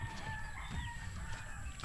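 A hen clucks softly at close range among farmyard chickens where eggs are being gathered, with a steady low background and no talk.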